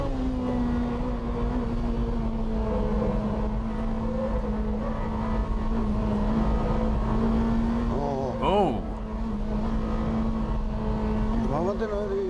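A new BMW M3 drives through banked corners, its engine holding a steady, loud drone from inside the car. Near the end there are brief rising and falling sweeps as the revs shift.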